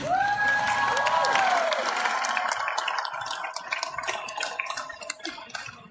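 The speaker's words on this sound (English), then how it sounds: "Applaud yourselves." A crowd at a live event breaks into applause and cheering that starts full after a short spoken line, then gradually thins out into scattered claps, moderately loud and fading.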